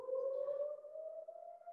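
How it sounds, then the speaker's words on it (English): A single sustained siren tone that drifts slightly in pitch, heard from a distance and faint, with no voices over it. "This is a siren."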